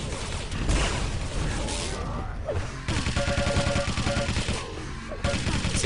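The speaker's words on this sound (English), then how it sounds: "Zix utilising that machine gun really effectively on the bounce pad there." Machine gun fire during a competitive video game match, with rapid repeated bursts of gunshots and mechanical clatter, loud and close, with brief pauses between volleys.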